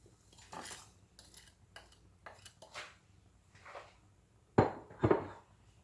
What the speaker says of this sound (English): stir it until it's all combined